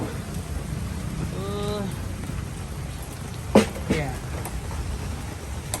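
Steady heavy rain hisses throughout, with a brief sharp crack midway and a faint tonal voice-like sound early on.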